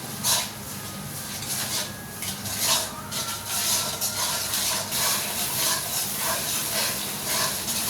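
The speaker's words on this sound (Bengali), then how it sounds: "মশলাটাকে আমি ভালো করে কষিয়ে নেব" Ginger garlic paste is fried with turmeric, chili and coriander powders and salt in a pan for a tilapia curry. It makes a constant hissing sizzle with scraping stirs, close and even throughout, with no voices.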